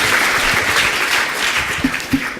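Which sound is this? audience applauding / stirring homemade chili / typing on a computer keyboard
audience applauding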